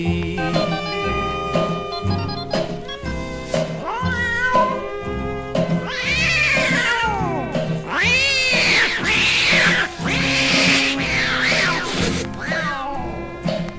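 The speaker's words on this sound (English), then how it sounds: "now that old tomcat started a fight. And this is the way it all did sound to me." Tomcats fighting on a night in a vintage Halloween recording: continuous loud yowling and caterwauling, rising and falling wails and meows that swell into screeching cries, with no talk.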